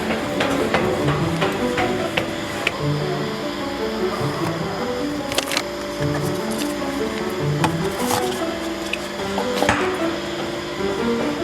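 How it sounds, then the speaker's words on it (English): Steady stirring in a tin of long-stored paint during a DIY yacht restoration, with a continuous scraping, sloshing churn and occasional knocks of the stirrer against the can, close and alone. "I've been stirring this now for a solid 5 minutes"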